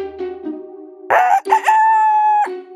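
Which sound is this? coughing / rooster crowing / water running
rooster crowing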